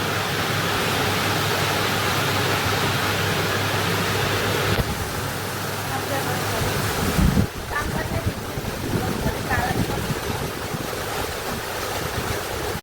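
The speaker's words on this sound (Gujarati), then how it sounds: "જોરદાર વરસાદ ચાલુ થઈ ગયો પાણી આવવા માંડ્યું" Heavy rain pouring outdoors, a dense steady roaring hiss that stays loud throughout, with a brief change in texture midway and faint knocks beneath.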